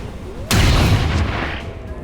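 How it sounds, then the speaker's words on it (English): A single loud gunshot from a squad soldier firing at a Gatekeeper in the XCOM video game, a sharp blast followed by a long rumbling decay. "Manny, too, will fire at the Gatekeeper"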